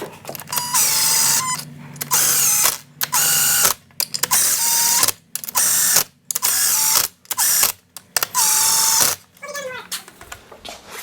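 Power drill running in repeated short bursts with brief pauses between, close and loud, during a Sea-Doo 951 two-stroke watercraft engine build; a voice speaks between bursts.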